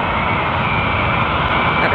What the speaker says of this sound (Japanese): なんか飛行機がこっちに向かって